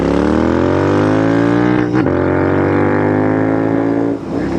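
A Royal Enfield INT650 custom motorcycle with S&S exhaust pipes runs in cold weather, its engine a steady loud throbbing drone that dips briefly around mid-clip and again near the end, with no talk over it.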